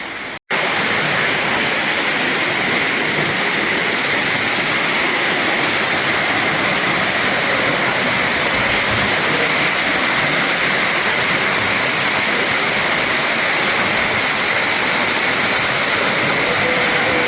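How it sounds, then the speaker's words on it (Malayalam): A loud, constant roar of a waterfall in Meghalaya fills the scene after a brief quieter moment at the start, dense and unbroken, close by. "ഇവിടെ ഒരു കിട്ടുക്കം വെള്ളച്ചാട്ടം ഉണ്ട് കേട്ടോ ഭയങ്കര ഭംഗി"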